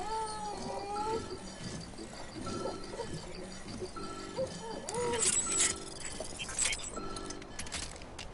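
Cat meowing in the video game Death Stranding, a few short plaintive calls amid game ambience and music, moderately quiet.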